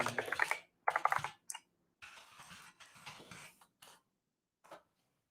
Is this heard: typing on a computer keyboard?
yes